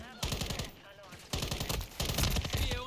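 Automatic gunfire in Call of Duty Modern Warfare 3, several quick bursts of shots with brief pauses between them, fairly close, under faint voices.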